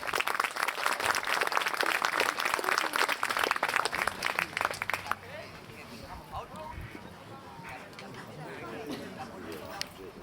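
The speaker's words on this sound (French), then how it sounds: "Bravo, merci pour vos applaudissements" Spectators clap at a polo match final at La Baule, dense applause for about five seconds that then drops to a quieter crowd murmur with a commentator's voice.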